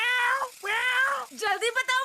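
A black cartoon cat meows in a run of drawn-out, wavering calls: two long meows, then a quicker cluster of shorter ones, loud and close.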